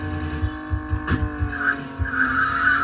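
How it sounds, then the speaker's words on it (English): Arcade car tyres squealing and skidding in Chase H.Q., a loud, steady engine drone with brief screeches rising over it. "It's got so many bends in it that you end up screeching your wheels on, and then I can't recover because the car just keeps skidding"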